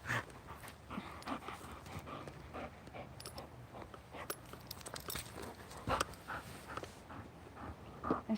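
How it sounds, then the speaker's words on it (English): An agitated dog pants rapidly and scrabbles around nearby, with irregular footfalls and shuffling over a quiet outdoor background. "because my dog's freaking out right now."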